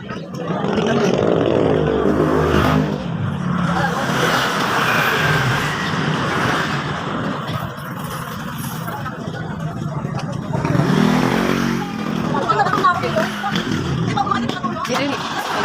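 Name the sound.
motorcycle passing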